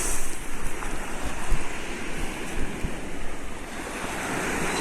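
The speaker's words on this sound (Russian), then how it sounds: "Красивые волны." Sea waves breaking on a pebble beach at Steklyannaya Bay on the Sea of Japan, a continuous close roar of surf with wind buffeting the microphone, no voices.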